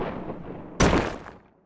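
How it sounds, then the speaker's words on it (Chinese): A stock explosion and impact sound effect bursts in suddenly at full loudness after a quieter rumbling lead-in, then rolls off over about half a second into a fading tail. "爆炸与冲击"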